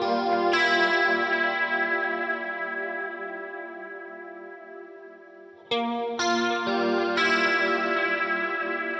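Clean electric guitar run through chorus and delay, a sustained shimmering chord that rings out and slowly decays, followed by a fresh strum and a few repeated chords with echoing tails, played alone.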